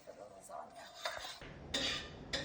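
Minced meat with garlic browns in a pan for lasagna, heard as faint scraping and clinking of a utensil against the pan with a soft sizzling hiss underneath, close and quiet.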